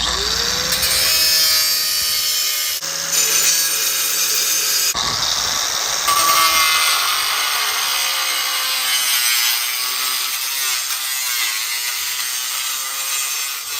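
A saw cuts steadily through a car part during a steering angle kit and inner tie rod install on an FRS/BRZ/GT86, giving a continuous loud, close rasping grind with a few brief shifts in pitch.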